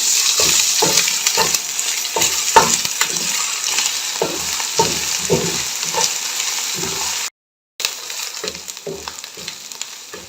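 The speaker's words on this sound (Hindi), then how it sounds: "अदरक लहसुन का पेस्ट भी मैंने भून लिया।" Ginger garlic paste fries in a pan with light golden onions, a close, steady sizzle broken by repeated stirring scrapes and clicks, with one brief gap partway through and no talk.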